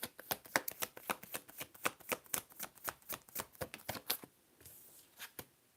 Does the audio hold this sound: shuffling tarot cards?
yes